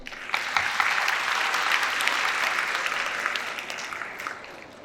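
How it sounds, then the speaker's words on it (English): Audience applause at an international communication skills workshop for an English Olympiad, a steady, dense round of clapping from a large crowd that holds evenly for several seconds. "A huge round of applause for English Olympiad."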